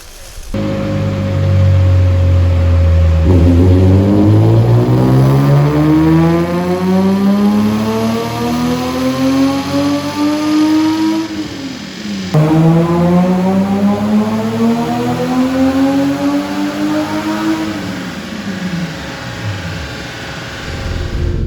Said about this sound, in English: Then it was time for one more dyno run before race day.